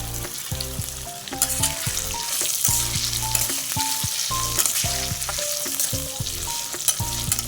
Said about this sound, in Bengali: দিয়ে আলুটা দিয়ে এবার এটাকে আমি ভালো করে কষিয়ে নিচ্ছি।